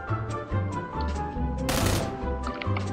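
Gunfire in PUBG, a few sharp shots and a louder crack over steady game music and background noise, with no talk.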